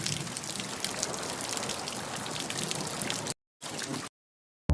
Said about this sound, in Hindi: तेज बारिश शुरू हो जाती है